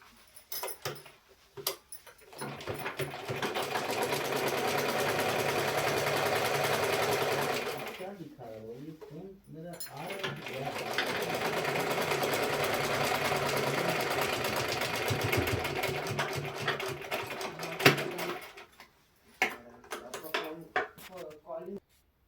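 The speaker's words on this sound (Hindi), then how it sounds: "तो अब मैं इसे ऐसे रखते हुए उल्टी साइड से ऐसे सिलाई कर लूंगी।" Sewing machine stitching fabric pieces together along the reverse side, running in two long steady bursts of rapid even stitching with a short pause between them, then stopping amid light handling noises.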